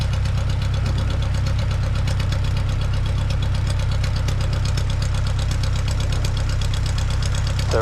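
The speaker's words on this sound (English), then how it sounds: "Have you heard the motor spit every time I give it a little gas from dead idle?" A 7AC Champ aircraft engine idling in a steady, even drone with a fine knocking pulse, heard close and loud with no talk over it; any spitting on added throttle is not clearly set apart.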